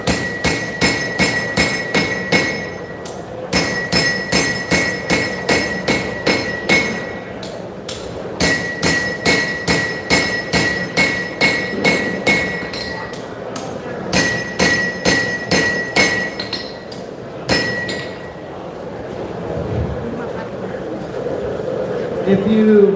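A straight peen hammer strikes a knife blade on an anvil at a knife show forge, bursts of rapid ringing metallic blows in steady rhythm with short pauses between runs, loud and close, followed by someone talking near the end.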